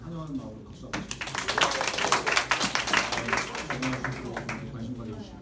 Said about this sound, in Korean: 새로운 친구 환영하는 마음으로 박수 한번 주시고